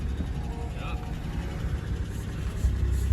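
A 1992 Toyota 4Runner engine idles high and steady, a loud low rumble that runs throughout and swells slightly near the end.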